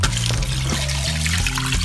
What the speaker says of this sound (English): I pour in enough water